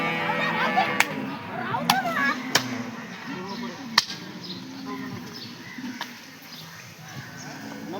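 A dairy cow on a dairy farm gives a low call early on amid a quiet barn background, broken by a few sharp clicks and knocks.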